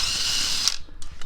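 A ratchet removes a 10 mm radiator mount bolt on a Honda CBR250R motorcycle, with a close, rapid, buzzing stream of clicks that breaks off into a few separate slower clicks.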